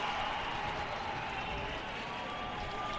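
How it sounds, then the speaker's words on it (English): A crowd roars steadily at a schools football championship match in Africa, with a broad, sustained wash of cheering and noise at a distance and no clear breaks. "Whenever you hear the crowd showing excitement, usually that's a sign that the host nation or the school representing the host nation has found the back of the net"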